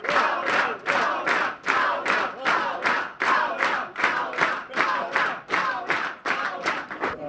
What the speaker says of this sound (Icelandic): Henni var ákaft fagnað þegar hún steig út úr dómsalnum